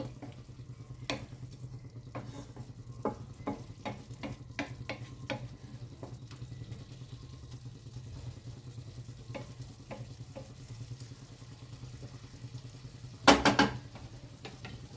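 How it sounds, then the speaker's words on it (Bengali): A cauliflower curry with fresh coriander leaves is stirred in a wok, making quiet, scattered scraping clicks over a low background hum. Near the end comes a brief, louder clatter of the spoon against the metal. "দিয়ে আমি তরকারিটার সাথে ধনেপাতাটা মিশিয়ে নিচ্ছি।"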